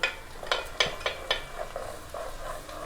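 Turmeric and spices fry in a hot pan for lauki chana dal, a soft sizzle under several distinct scraping stirs of a spoon against the pan, close and moderately loud, with no talking.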